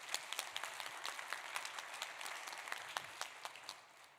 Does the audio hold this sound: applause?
yes